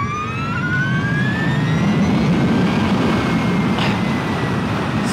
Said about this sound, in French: alors là je me retrouve sur une ligne droite, j'accélère à fond